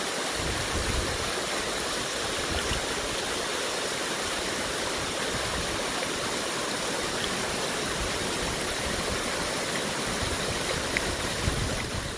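Pig Face Falls near Hermanus, a waterfall and stream giving a steady broadband rush of falling and flowing water, loud and even throughout with no voices.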